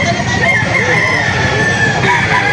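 Roosters crow loudly and continuously in a crowded livestock chicken auction market, several birds overlapping close by with clucking beneath them and a faint murmur of people in the background.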